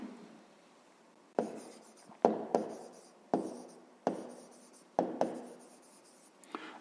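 Handwriting strokes during a fifth-grade maths exercise, with short bursts of pen scratching on paper separated by brief pauses, close and fairly quiet, about eight distinct strokes with no voices.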